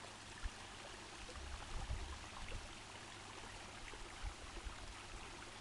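Small waterfall spilling into a jacuzzi on an upper courtyard level of a resort in Chiang Mai, Thailand, a steady faint trickling and splashing wash heard from close by, with no voices.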